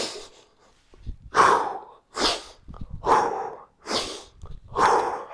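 Five sharp, rhythmic breaths pushed hard through tight lips during kettlebell swings, each a short hissing burst with brief pauses between, close and fairly loud.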